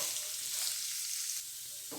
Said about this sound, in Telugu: వేసుకొని వంట స్లోలోనే మనం వేయించుకోవాలి ఇలాగా